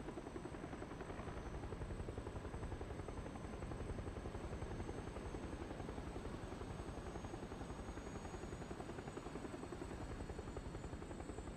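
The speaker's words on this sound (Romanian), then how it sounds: "Ăsta e elicopterul lui Kobe Bryant." Helicopter flying in the PUBG battle royale game, a steady, continuous rotor chop with an even rapid pulse that holds at constant loudness throughout, with no talking.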